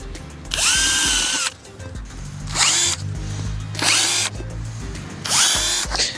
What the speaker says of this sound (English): I'm going to get my drill and we'll start drilling